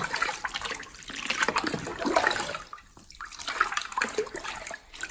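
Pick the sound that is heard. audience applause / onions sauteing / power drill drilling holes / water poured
water poured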